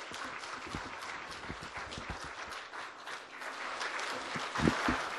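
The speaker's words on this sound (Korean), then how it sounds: "박수로 맞이해 주시기 바랍니다." A steady wash of applause from a forum audience welcoming presenters, continuous throughout with a few louder claps near the end.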